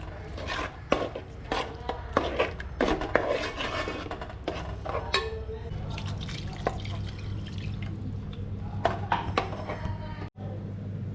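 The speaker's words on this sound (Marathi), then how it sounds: "आपण थोडा थोडा पाणी घालून रस्सा बनवू" Water is poured into a pan of fish curry with splashing and dripping, mixed with clinks of metal utensils, then settles into a steady simmering hiss.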